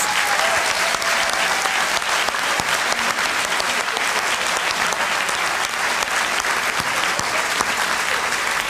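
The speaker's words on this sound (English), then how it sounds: "So now, another round of applause for everyone, please." A debate audience at a Pennsylvania congressional district event claps steadily and loudly, a dense, even wash of applause that holds throughout with no voices rising above it.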